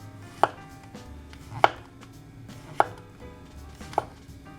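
Four sharp knife strikes against a cutting board, evenly spaced about a second apart, as shiitake mushrooms are sliced thick; crisp, close and clean with no voices.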